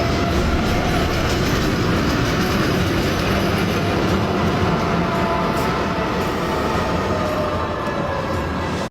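A train rumbles loud and continuous across a railway bridge overhead, a steady heavy roar with rattling wheels that holds for the whole stretch and cuts off abruptly at the end.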